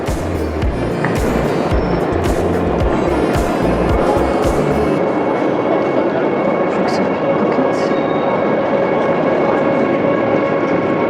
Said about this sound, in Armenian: էսա քաղաք գնացող գնացքը